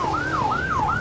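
An ambulance siren in the Roblox game Maple County wails loud and close, its pitch sweeping up and down in a steady repeating cycle with no other sounds.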